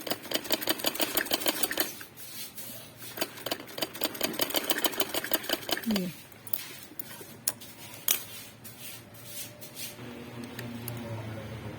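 A sewing machine stitches a kameez neckline, its rapid rhythmic needle chatter loud and steady for several seconds, then slowing to a quieter hum with scattered clicks as the fabric is turned.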